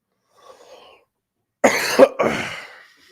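Two harsh, close coughs in quick succession, loud and dry, after a faint murmur in an otherwise quiet room.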